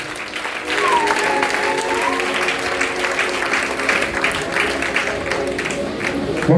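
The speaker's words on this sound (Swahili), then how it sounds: "mpigie Bwana makofi" A church congregation breaks into sustained applause after a short lull, a dense, even patter of many hands clapping that carries on steadily with scattered voices and cheers mixed in.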